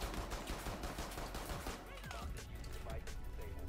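Rapid gunfire from a video game firefight, dense bursts of shots crackling almost continuously, loud and close, with voices talking over the shooting.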